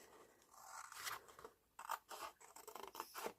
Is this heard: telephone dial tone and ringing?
no